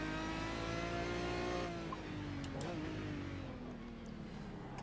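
A GT race car in a Le Mans racing video game drones at steady engine pitch, then shifts with a dip in revs before pulling on, with faint tire squeals over continuous loud engine noise.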